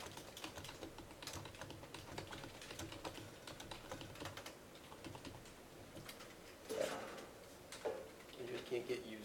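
Code being typed on a computer keyboard, rapid irregular key clicks at close range running throughout, with a quiet voice talking in the background.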